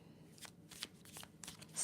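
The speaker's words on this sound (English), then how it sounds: "I'm shuffling." Tarot cards being shuffled by hand, giving a run of soft, papery riffling bursts that repeat irregularly at close range with no talk over them.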